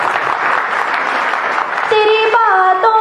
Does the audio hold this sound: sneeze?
no